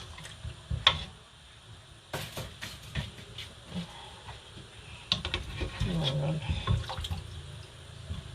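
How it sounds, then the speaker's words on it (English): Water boiling in a cooking pot for rice gives faint bubbling, dripping and ticking sounds, with occasional kitchen clatter close by. "And I have water inside this pot already. It's boiling."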